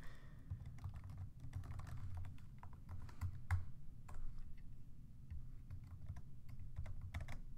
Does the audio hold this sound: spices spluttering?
no